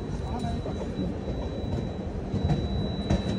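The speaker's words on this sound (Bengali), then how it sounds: "তো চলো এই পাশেই ট্রেনটা দিয়েছে" A train at Haridwar railway station produces a steady low rumble and rolling clatter with faint metallic squeal, heard close on the platform with muffled voices mixed in.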